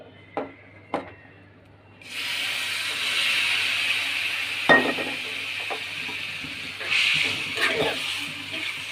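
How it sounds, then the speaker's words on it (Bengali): Boiled leaves hit a little hot oil in a pan and set off a steady, loud sizzling hiss, after a couple of sharp clinks. Stirring scrapes and knocks come in over the frying, which swells again later on. "এবার পাতাটা একটু হালকা তেল দিয়ে ভেজে নিব"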